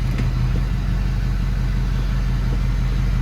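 A freshly rebuilt Ford 6.0 PowerStroke diesel truck engine runs in neutral with a loud, steady low rumble and clatter that holds constant throughout, with no talking.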